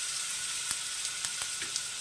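Garlic paste sizzles in hot oil left over from frying rohu and catla fish, a steady bright hiss with a few soft pops and clicks, heard alone.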